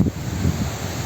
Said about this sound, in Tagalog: Tignan nyo, lakas ng hangin.